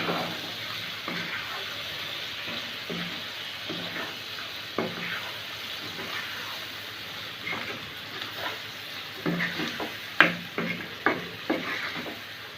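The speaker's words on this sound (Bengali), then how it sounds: "মশলার মধ্যে ভালো করে কলাটাকে কষিয়ে নিতে হবে।" Raw green banana stirred and fried in a spice paste in a pan, a soft steady sizzle with scraping stir strokes that grow sharper and more frequent toward the end, no voice over it.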